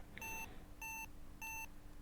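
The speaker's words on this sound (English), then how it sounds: "But our watch beeped." A wrist watch in the Space Quest 2 video game gives off repeated electronic beeps, four evenly spaced tonal bursts about half a second apart, over a steady hiss with no talk.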